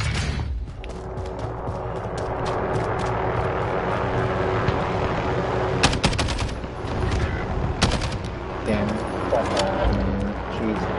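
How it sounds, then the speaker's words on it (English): Assault rifle fire in Warzone arrives as sharp bursts of shots over a dense game soundscape that includes aircraft drone and ambient noise. "Assault rifle."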